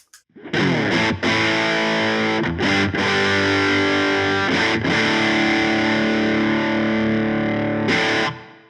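Electric guitar through a Fulltone OCD overdrive pedal chugs and holds thick distorted chords, a few quick muted breaks, then rings out loud and close before cutting off.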